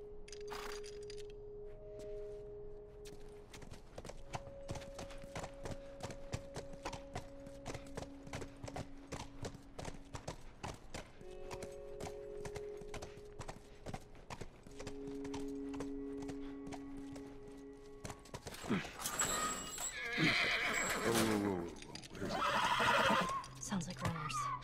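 Horse hooves clip-clop steadily with repeated whinnies and snorts in The Last of Us video game, with dialogue-like voices and ambient music tones, and louder rustling activity toward the end.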